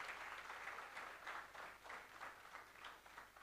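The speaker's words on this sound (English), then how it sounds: "Let's give them a big round of applause." Audience applause at a TV channel launch event for Colors Infinity, a steady wash of many hands clapping at moderate level, swelling in soft pulses for the whole stretch.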